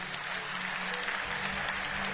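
A church congregation claps at a pastor's ordination, with dense, continuous applause of fairly even intensity throughout.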